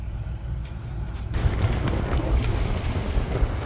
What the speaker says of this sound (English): It's a 22 kilometer an hour wind coming from the west right at me.